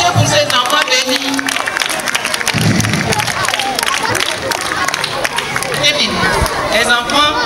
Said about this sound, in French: Applaudissez pour ces enfants bénis.